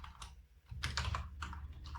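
Quick, close clatter of keystrokes on a computer keyboard, a short burst of typing in a quiet room.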